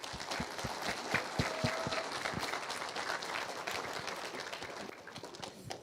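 An audience gives steady, moderately loud applause at a literacy awards event as a congressional staffer is welcomed to the stage, many hands clapping together without a break.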